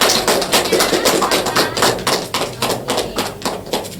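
Applause from a classroom group after a presentation, dense steady clapping filling the whole stretch at close range with no pauses.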